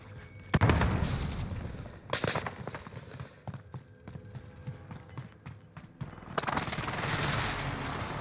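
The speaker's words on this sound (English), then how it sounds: "Throwing frag." A frag grenade explosion in Warzone amid gunfire, sharp shots and booming bursts separated by quieter gaps, then a broad blast swelling near the end, with a brief voice heard underneath.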